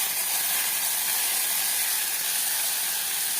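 Chopped tomatoes sizzle in a pan with ginger garlic paste for a quick side dish, a steady, loud, close frying hiss with crackling texture throughout and no talking.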